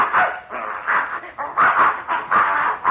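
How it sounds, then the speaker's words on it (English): A dog-barking sound effect from a 1941 NBC radio comedy broadcast: a close, loud run of excited barks and yelps in rapid bursts, heard alone without any talking. "There's that mad dog, Adolf."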